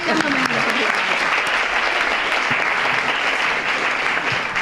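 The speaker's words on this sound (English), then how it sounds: "let's give them a round of applause." A steady, dense round of applause fills the room at the opening ceremony of a literary festival, with many hands clapping loudly and evenly throughout and no one talking over it.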